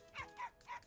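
A puppy gives three quick, faint high yips in rapid succession, soft and somewhat distant.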